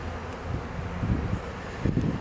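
Honeybees buzzing softly around an opened hive of a weak colony during an inspection, a low wavering hum close by with rustling and brief louder swells.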